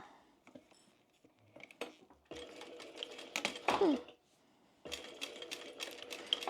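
A sewing machine stitches across a tote bag in short bursts, with rapid mechanical clatter, pauses and a few clicks and handling knocks between runs, fairly quiet and close.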